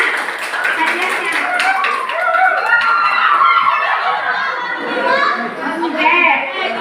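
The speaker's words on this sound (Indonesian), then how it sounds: "Oke, tepuk tangan" Children clap in response to a call for applause at a school outreach session, a short burst of hand claps mixed with kids' chatter and laughter close by.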